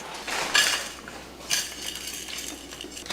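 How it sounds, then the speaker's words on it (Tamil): Roasted masala being scraped from a pan onto a plate, with soft metallic clinks and scrapes of a utensil against cookware in short bursts, close and fairly quiet. "இதை தனியாக ஒரு பிளேட்டில் போட்டு வச்சிடலாம்."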